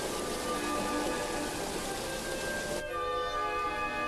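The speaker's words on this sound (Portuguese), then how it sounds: "As chuvas de outono começaram a atrasar os aliados." Autumn rain falls steadily in Italy, a dense, even hiss of drops that continues throughout with no voices.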